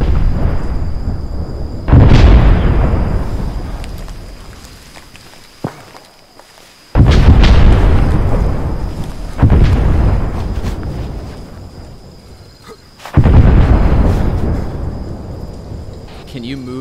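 Incoming artillery rounds exploding in Arma 3: four heavy blasts a few seconds apart, each a sharp loud crack that rolls off into a long fading rumble, with faint talk between them.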